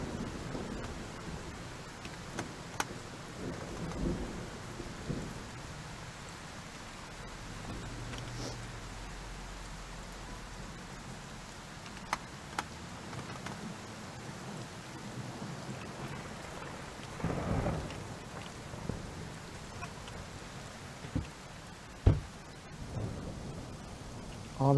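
Steady quiet rain hiss with occasional low rolls of thunder rumbling underneath, continuous throughout, in the video game Car Dealership Simulator.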